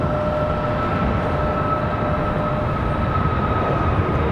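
An Icelandair jet airliner departs Raleigh Durham airport at night, its engines giving a steady, loud, broadband roar with a faint sustained tone running through it and no break across the whole stretch.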